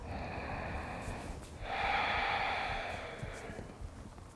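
A single slow, audible breath during a calming yoga practice, starting faint and rising into a fuller, airy exhalation near the middle before tapering away, close and unaccompanied by speech.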